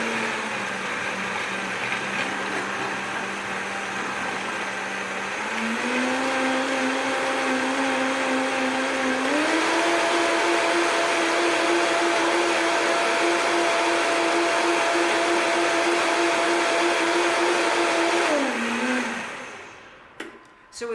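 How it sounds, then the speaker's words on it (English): A blender whirs steadily as it purées red chile sauce for tamales, a loud, close, continuous motor drone that steps up in pitch twice before winding down and stopping near the end. "So with chili, the longer you blend it, the smoother it gets"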